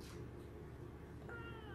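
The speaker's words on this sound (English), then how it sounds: "My cat is over there eating my dog's food right now" A house cat meows faintly in a quiet bedroom while eating dog food, with a single thin meow rising near the end over low room hum.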